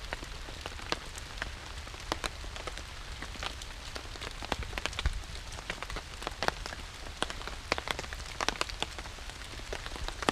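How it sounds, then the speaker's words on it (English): Steady, non-stop rain patters on surfaces at a camp in the Hampton Tract, a dense even hiss with scattered sharper drips throughout and no voices. "It has been non-stop raining."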